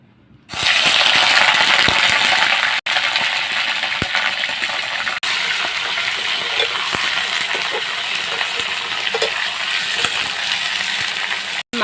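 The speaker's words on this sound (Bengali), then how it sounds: "এবার আমি মাংসগুলো তেলের মধ্যে ভেজে নেব" Medium-sized chicken pieces drop into hot oil for a rustic chicken curry and set off a loud, sudden, sustained sizzling roar that continues steadily with two brief dips, close up.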